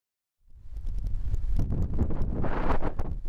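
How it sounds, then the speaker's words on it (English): Wind gusting at a backpacking campsite in St. Croix State Park, Minnesota, rises from silence into a steady, loud rumbling buffet across the microphone. "Wind's on my back right now."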